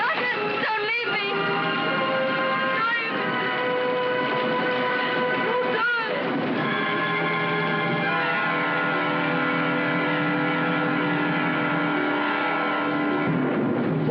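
A train pulls out of a station in a 1940s film scene, giving a steady rumbling roll with tonal, whistle-like strands drifting over it, sustained and moderately loud from start to finish.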